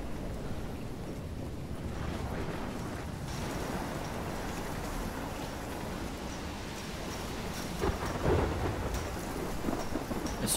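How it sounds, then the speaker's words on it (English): A heavy thunderstorm with steady rain in the video game Life is Strange, set in Oregon, a dense constant downpour with rolling thunder swelling louder near the end, no voices. "I've never seen a storm like this in Oregon."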